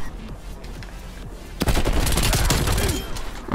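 A MAC-10 submachine gun fires in a video game: a quiet opening gives way to loud, rapid, continuous automatic bursts lasting about two seconds.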